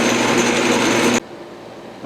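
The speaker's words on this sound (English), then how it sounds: "I'll just go ahead and drill it with a tap drill to start off" A tap drill boring a hole on a metal lathe, a loud steady high whine with grinding that stops abruptly partway through, leaving quiet shop hum before a brief rise at the end.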